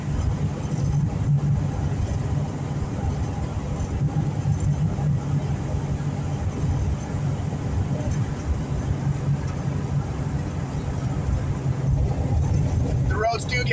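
A 1981 Valiant Volare in need of shocks driving on a rough, bumpy road, giving a steady low road and engine rumble heard from inside the car with talk over it.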